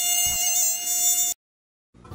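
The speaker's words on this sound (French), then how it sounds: "Mais ils ont des moustiques." Mosquitoes whine while camping in Norway, a thin high continuous buzz close by for over a second, then abrupt silence before a low rumble of background noise returns.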